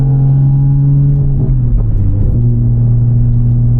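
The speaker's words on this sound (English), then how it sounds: "Car sounds amazing" Interior cabin sound of an 840whp Toyota Supra running on E85, a loud, steady engine drone with a deep low hum that dips and shifts briefly midway as the revs change, close and continuous with no talking.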